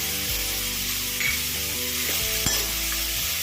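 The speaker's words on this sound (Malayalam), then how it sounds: "ചെറുതായിട്ടൊന്ന് വഴണ്ട് വരട്ടെ ഉള്ളി വഴറ്റുന്നതിൽ കുറച്ച് ഉപ്പ് ചേർക്കാം" Onions sauté with salt in a pan for tapioca biryani, giving a steady, loud, close sizzle throughout with a couple of faint stirring clinks. A low hum runs underneath.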